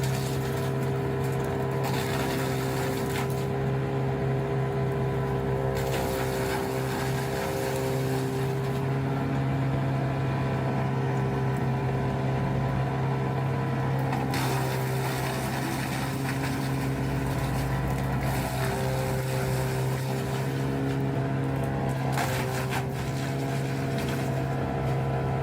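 A wood chipper machine runs steadily for the whole stretch, a loud continuous engine drone with a constant hum and shifting mechanical grinding over it, no breaks and no voices.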